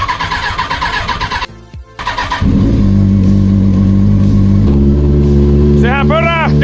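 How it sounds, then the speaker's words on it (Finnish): An old motorcycle engine cold-starts after a brief pause, catching and settling into a loud, steady idle near the microphone, with a voice talking over it. "Nyt otetaan cold starttia moottoripyöristä."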